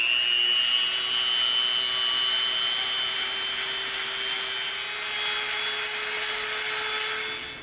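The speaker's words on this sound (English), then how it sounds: "So we're gonna get a brass tube. All right, let's sharpen our tube." Brass tube being sharpened for cutting EVA foam, a continuous scraping rub with faint rhythmic strokes and a thin high ringing tone, close and steady, with no talking.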